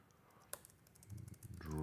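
Light clicks from typing on a computer keyboard, a few sparse, quiet keystrokes close by, followed by a person starting to speak.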